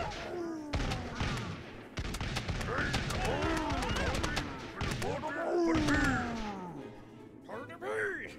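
Rapid bursts of gunfire in the game Totally Accurate Battle Simulator crackle and pop repeatedly, mixed with whooshing effects and heavy game action, while a voice talks over it.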